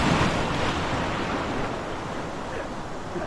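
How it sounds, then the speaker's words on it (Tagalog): Big ocean waves surge and wash in a steady, moderately loud roar at sea, with wind buffeting the microphone throughout the short stretch. "Uy, kalalaking alon."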